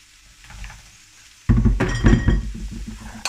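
Grated potato drops into a hot pan of bubble and squeak mixture, setting off a loud burst of sizzling with stirring and scraping clatter from a utensil, after a quieter stretch of gentle frying.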